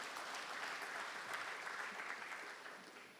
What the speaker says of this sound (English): we should celebrate that with a round of applause